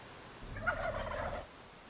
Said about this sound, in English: Loud gobbles dominate turkey habitat as males call